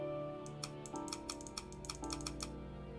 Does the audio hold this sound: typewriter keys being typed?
yes